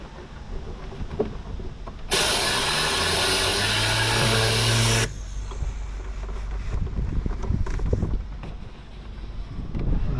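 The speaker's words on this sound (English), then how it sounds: "The Tornador is really good for that as well, as actually getting the dust out of those little areas" A Tornador cleaning gun blasts compressed air during car detailing, one steady loud hiss lasting about three seconds, set against quieter handling noise and background rumble.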